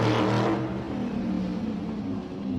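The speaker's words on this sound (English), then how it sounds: "For at the steering wheel of the speeding car was a woman, wrote Carr, adding, "Imagine that!"" A speeding car whirs past with a smooth engine drone that is loudest at the start, then settles into a steadier, fading hum.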